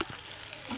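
Garlic fries in a hot pan with a dense, close sizzle that stays steady and loud across the brief moment, with no voices.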